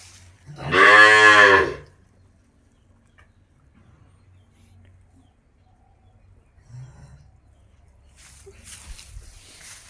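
Cattle on a village cow farm: one loud, close moo lasts about a second, followed by quiet with faint low sounds and a little distant noise later on.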